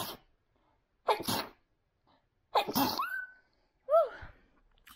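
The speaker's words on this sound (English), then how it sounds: "Hi, I gotta sneeze." Two sharp, close sneezes a second or so apart, then a short breathy exclamation from the same voice.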